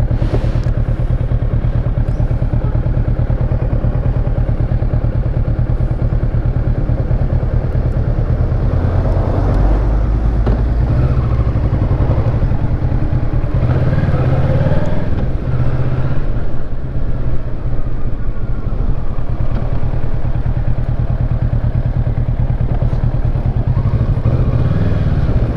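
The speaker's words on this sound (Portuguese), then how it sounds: "Deixa eu aprumar a moto." A motorcycle engine idles steadily and loudly close by on a rural road in the southern forest region of Alagoas, Brazil, with a constant low throb, occasional clatter and thumps as the bike is shifted upright.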